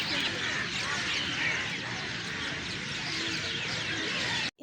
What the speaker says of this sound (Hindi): यहाँ परिंदों की आवाज़ इतनी खूबसूरत थी जो कि मैं आप लोगों को सुनाती हूँ